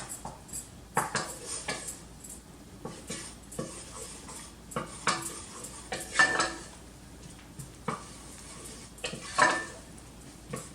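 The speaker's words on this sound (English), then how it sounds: "we're going to add our seasonings and our poblanos, and we're going to stir that until it's fragrant for about a minute" Spoon scraping and clinking in a metal pot as poblano peppers and seasonings are stirred for chile relleno soup, a run of irregular close scrapes and knocks with no one talking.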